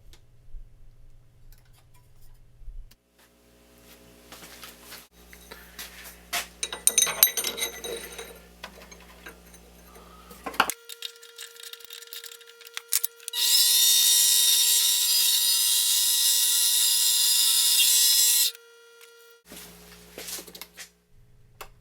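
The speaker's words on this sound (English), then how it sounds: "I have a piece of 6061 aluminum that I'm going to turn a little bit" Mini lathe turning a piece of 6061 aluminum: intermittent mechanical clicks and clatter, then a loud, steady high whine with a low motor hum running for several seconds before it stops and the clicking resumes.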